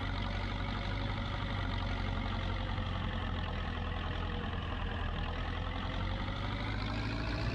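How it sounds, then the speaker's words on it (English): Zetor four-wheel drive tractor engine idling steadily, a continuous low rumble with even loudness throughout and no voices. "I remember the sound of specifically this Zitter tractor from when I was young"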